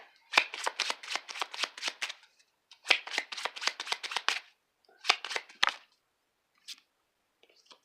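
Regular playing cards are handled and pulled from a deck, producing close, crisp flicking and riffling in bursts of rapid snaps, with short pauses between groups and one last isolated flick near the end.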